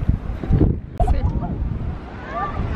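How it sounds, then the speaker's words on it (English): Strong beach wind buffets the microphone in heavy rumbling gusts, with a person talking through it. "It's so windy. I don't even know if you can hear me."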